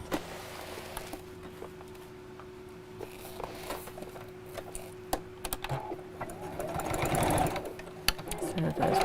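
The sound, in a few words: sewing machine stitching fabric for a pram quilt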